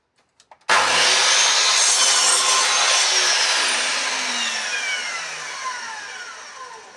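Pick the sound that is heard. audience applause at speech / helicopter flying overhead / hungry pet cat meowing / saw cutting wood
saw cutting wood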